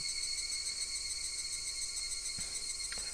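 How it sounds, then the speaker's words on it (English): Loud, steady cicada chorus from the Higurashi video game, a continuous shrill buzzing drone that runs unbroken throughout with no speech over it. "Only the cry of the cicadas remained, annoyingly loud."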